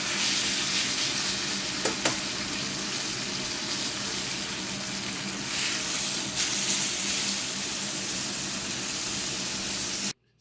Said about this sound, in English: All I wanna do is just sear each side.